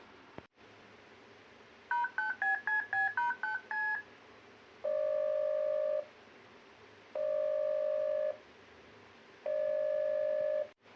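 A telephone number is keyed in as a quick run of about a dozen touch-tone beeps, followed by three evenly spaced, sustained ringing tones while the call connects, all quiet and close.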